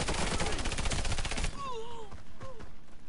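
A suppressed M99AS submachine gun fires in rapid automatic bursts in the video game Warface, loud and dense for the first half. It is followed by quieter game sounds with tonal whistling effects.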